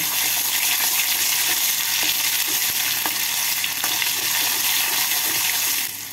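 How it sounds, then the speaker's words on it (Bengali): Asafoetida and ginger paste are stirred into hot oil, giving a loud, continuous close-up sizzle with occasional scraping clicks from the spoon before the sound eases at the end. "তেলের মধ্যে নাড়াচাড়া করে নেব"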